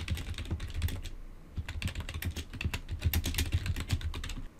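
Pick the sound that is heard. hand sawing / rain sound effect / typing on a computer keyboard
typing on a computer keyboard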